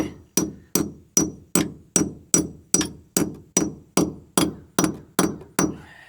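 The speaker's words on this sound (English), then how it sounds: "And then start hammering away." A hammer drives a bolt in with fourteen evenly spaced, ringing strikes, each sharp and close with a brief metallic decay, in a steady rhythm and no talk.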